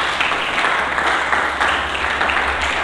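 A church congregation applauds together in a dense, steady wash of clapping that holds at an even level throughout.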